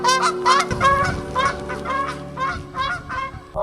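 A flock of wild geese in Florida honks repeatedly in loud, overlapping calls from close by, with steady rhythmic bursts throughout.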